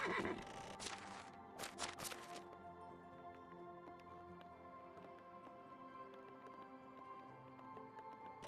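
A horse in the medieval game Medieval Dynasty gives a loud, shrill neigh with sharp cracks and hoof clatter at the start, then the scene drops back to a quiet tonal ambience.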